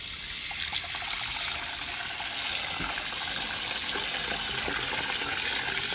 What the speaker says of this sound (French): je vais encore revenir ajouter de l'eau